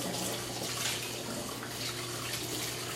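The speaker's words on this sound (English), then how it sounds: "I will cut and wash cucumbers" A kitchen tap runs in a steady, unbroken stream while cucumbers are rinsed under it, a close, even hiss of water filling the whole stretch with no voices.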